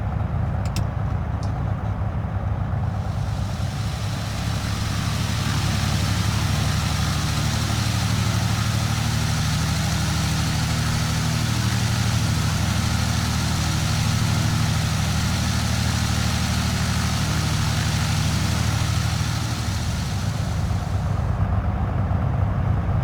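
Cessna 170B piston engine idling in Microsoft Flight Simulator, a steady low, throbbing drone with a rough buzzing edge, holding even and loud for the full length with no talk.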